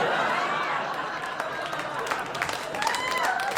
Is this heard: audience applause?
yes